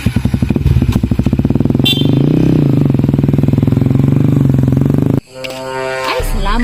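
A motorcycle engine putters with a rapid, even chug close by, idling steadily before a sudden cut, after which a rising whine and background voices follow.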